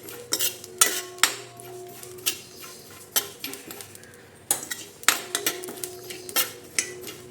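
A metal spoon stirs whole spices such as fennel, cumin and ajwain as they dry-roast in a hot pan. Sharp clinks and scrapes come in irregular bursts against the pan, close and fairly loud, with no talking.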